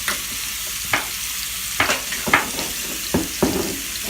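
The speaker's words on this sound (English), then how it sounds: "And you're going to give it a stir." A honey glaze is stirred in a pan for salmon meal prep, with a soft sizzle and several sharp spoon scrapes and clinks against the pan in quick, uneven bursts, close up and without speech.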